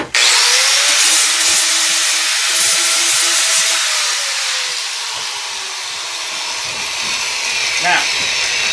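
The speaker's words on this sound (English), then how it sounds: "I am going to use the grinder, and I'm going to clean them off camera." A power grinder runs continuously and loudly close by, its whine dipping slightly in pitch as it cleans excess material off a sculpted rose, with rubbing and scraping under the steady motor noise.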